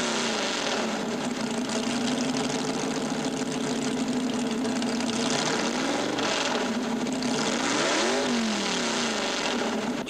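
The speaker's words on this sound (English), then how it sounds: "something with giant tires, a couple engines burning anything from airplane fuel to alcohol" Modified pulling tractors with twin engines run on airplane fuel or alcohol at a 1978 tractor pull, a loud continuous engine drone whose pitch swoops up and down as they rev, with no talk.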